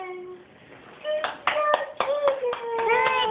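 A small child claps hands at home, a handful of sharp irregular claps under cheerful talk and squeals from a young girl and an adult.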